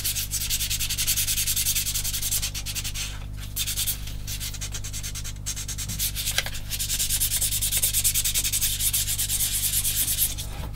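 Soft sanding pad rubbed over a plastic 1/16 scale M10 Achilles tank destroyer model kit, continuous close scratchy back-and-forth strokes with brief pauses, no speech.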